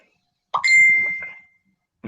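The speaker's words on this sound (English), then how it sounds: "What's the bell mean?" A single bright bell ding rings out during a live streamed show. It is struck once and sustains with a fading tone, and a voice begins just as the clip ends.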